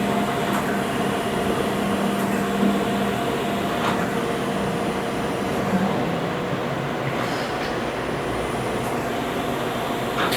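Chevalier column-type 3-axis automatic surface grinder, 20 by 40 inch, running its cycle toward fine feed and spark out: a steady, even machine drone with faint periodic ticks, no talk.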